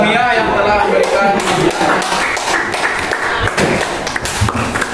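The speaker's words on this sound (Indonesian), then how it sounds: "berikan tepuk tangan kepada Mia yang telah memberikan" A classroom group applauding a student, with a burst of close, uneven clapping and taps that runs throughout while a teacher's voice talks over it.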